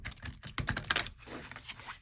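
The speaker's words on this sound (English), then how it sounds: "I'm going to do a little side shuffle" A tarot card deck is side shuffled in the hands, giving close, rapid papery flicks and riffling clatter in quick bursts, louder at first and then softer.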